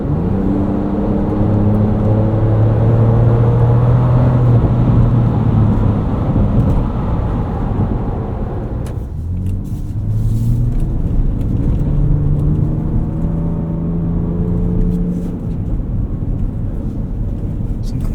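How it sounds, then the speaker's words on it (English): Continuous rumbling road noise from a Ford Ranger Raptor on 35-inch tires driving over bumps, gravel and rough pavement, heard steadily from inside with engine drone and a few faint thumps. "Driving over bumps on these tires, little bits of gravel, rough pavement, you don't even feel it."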